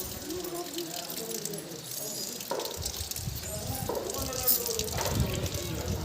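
Water runs and splashes from a tap as hands are washed before entering a temple, a continuous gushing patter close by under ongoing talk.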